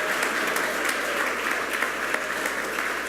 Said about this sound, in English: let's give a round of applause to these green ribbon schools